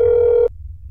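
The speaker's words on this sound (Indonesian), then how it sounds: "Coba ya kita telepon ya" Telephone dial tone in the video game That's Not My Neighbor, a loud steady electronic tone that cuts off abruptly halfway through, leaving a low background hum.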